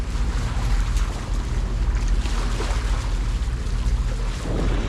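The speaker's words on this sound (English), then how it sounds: "first day of motoring through on our catamaran" A catamaran motors steadily through the water, its engine a constant low drone mixed with rushing water, wave wash and wind buffeting the microphone, loud and continuous throughout.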